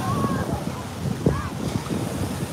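Steady wash of surf on a pebbly shore in Camarines Sur, Philippines, as the sea calms after a typhoon, with wind buffeting the microphone and faint voices blended in the background.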